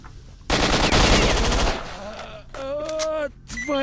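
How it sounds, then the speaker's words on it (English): An AK rifle fires in STALKER: Shadow of Chernobyl, a loud close burst of rapid automatic shots lasting about a second and a half, then fading tails and brief tonal game sounds, with no talking. "An AK at this point."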